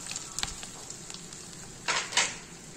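Whole wheat flour roasting in melted ghee in a pan, a soft continuous sizzle with a couple of louder hissing swells near the end as it is stirred, no voices.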